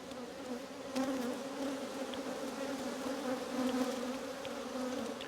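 Around a thousand honey bees swarm over an opened hive as heavy honey boxes are lifted, a dense, steady buzzing drone that stays close and continuous with no voices.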